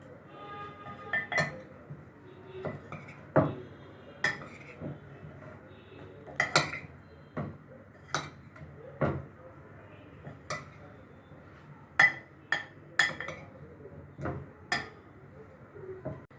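Eggplant pieces are coated with a spoonful or two of starch. A spoon repeatedly clinks and taps against a metal pan and dish in sharp, irregular strikes over a quiet background, with no talking.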